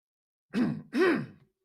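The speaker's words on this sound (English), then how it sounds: "clearing my throat for this one" Two short, throaty vocal bursts in quick succession, like a person clearing their throat, heard close up against silence.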